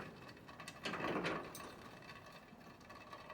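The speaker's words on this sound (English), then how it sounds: "This little wrench helps me get this on here nice and good." Small wrench tightening a battery terminal on a 1971 Plymouth Road Runner, a faint, brief ratcheting burst of clicks close by in a quiet space.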